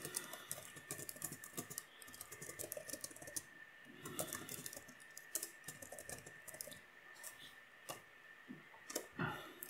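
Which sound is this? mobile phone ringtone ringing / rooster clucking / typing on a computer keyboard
typing on a computer keyboard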